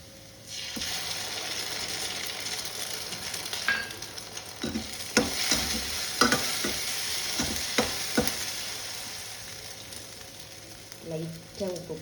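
An egg fries in a pan for egg rice, giving a soft steady sizzle with scattered stirring clinks and scrapes, faint and close.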